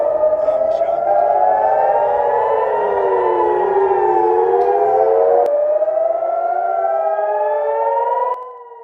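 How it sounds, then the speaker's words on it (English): Air raid sirens in Haifa, Israel, wail continuously with overlapping rising and falling tones, loud and sustained, during a missile alert, with some voices faintly beneath. "we're hearing the sirens in Haifa"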